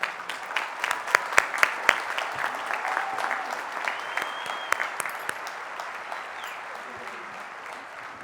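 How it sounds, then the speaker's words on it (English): A graduation audience at a 2019 high school ceremony applauds, with crisp claps peaking early and then thinning into a softer, fading patter. "And let's give him a round of applause."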